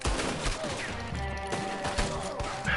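Gunfire in the Red Dead Redemption 2 video game, a dense burst of shots and impacts running across the whole stretch with game noise mixed in, loud and close.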